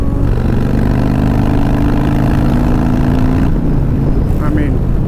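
A Harley-Davidson Softail Low Rider S with a Stage 4 131 engine downshifts on the highway, its loud, steady engine rumble and wind noise carrying through with a shift in pitch partway through, under some talk.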